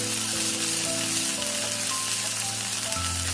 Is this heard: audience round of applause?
no